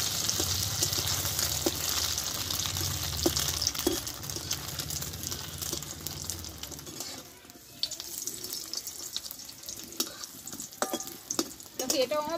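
Egg paratha frying in oil in a pan after being flipped, a steady close sizzle with stirring and scraping, easing midway into quieter crackle with clinks and light water-like splashes.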